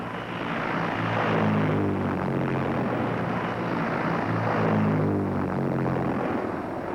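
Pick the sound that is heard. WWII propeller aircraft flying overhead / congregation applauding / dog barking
WWII propeller aircraft flying overhead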